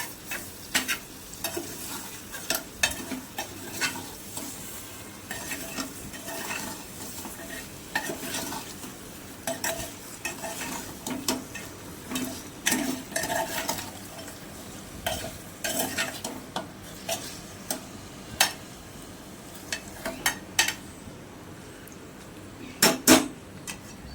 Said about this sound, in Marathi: आता याच्यामध्ये मी टाकला आहे मटण हेही आपण व्यवस्थित एकजीव करून घेऊया